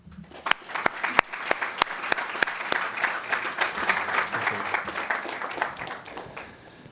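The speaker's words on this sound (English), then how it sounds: "Please join me in applauding this outstanding servant to the nation, and leader of character" An audience applauds a speaker, a broad roll of clapping with several sharp, close individual claps standing out near the start, then settling into a steady mass before easing off.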